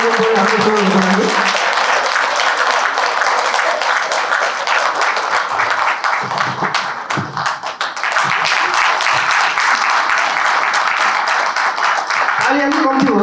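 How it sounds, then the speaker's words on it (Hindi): A large audience at a ceremony at the 6M Center in Kalimpong claps loudly and steadily for about thirteen seconds, a dense, continuous roar of hands, with a voice speaking briefly at the start and again at the end. "जोरदार ताली बजाइदिनु पर्यो हाम्रो सबैको लागि।"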